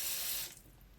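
Running water rushes from a tap into a sink as dry moss is soaked, loud and hissing for half a second before cutting back to a quieter trickle.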